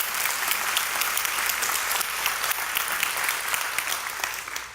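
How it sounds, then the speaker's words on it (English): Church audience at a Unity service gives a full, dense round of applause, many hands clapping continuously and loudly throughout with no voices standing out. "So give him a round of applause"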